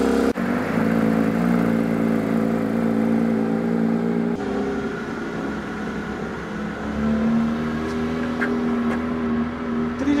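A Porsche 992 GT3 being driven, its engine giving a steady, loud whirring drone with shifting tonal pitch, heard from inside the car with no talk.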